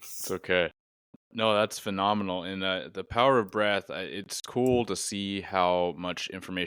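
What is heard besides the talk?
No distinct noise like a dog, phone or traffic.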